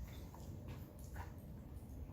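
A dog in sit training gives faint, thin whimpers, quiet and distant beneath a steady low background hum.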